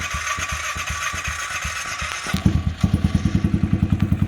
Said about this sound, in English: We're going to fire this thing up and fill the jungle with sound.